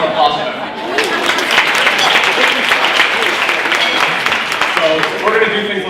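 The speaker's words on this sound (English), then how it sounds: "Another round of applause for them." A crowd at a wedding toast claps and cheers in sustained, dense applause from many hands, with voices rising over it near the end.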